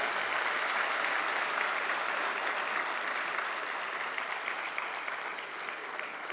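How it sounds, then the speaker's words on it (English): Steady applause from a large audience at an international conference, sustained clapping throughout with no voices standing out, gradually tapering slightly toward the end. "Please give a big round of applause."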